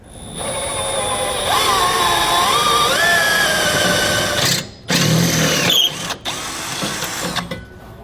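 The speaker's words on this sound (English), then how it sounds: "I'm going to start with one of these holes, and I'm going to go ahead and drill it out" A power drill whines steadily and loudly, drilling a hole for a leaf spring suspension kit on a 2013 Dutchmen trailer, its pitch rising as it bites in, then cuts off and restarts in short bursts near the end.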